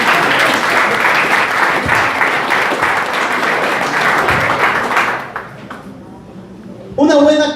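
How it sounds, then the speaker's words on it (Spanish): A church congregation bursts into loud, sustained applause for several seconds, then the clapping fades out before a preacher's voice returns. "Denle un fuerte aplauso al Señor."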